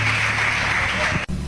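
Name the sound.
church congregation applauding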